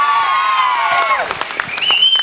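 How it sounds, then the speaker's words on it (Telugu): A school silver jubilee audience bursts into loud, sustained clapping and cheering, with a few high whoops and shouts rising over the dense applause. "గట్టిగా క్లాప్స్ కొట్టండి అమ్మా కుర్రాడికి"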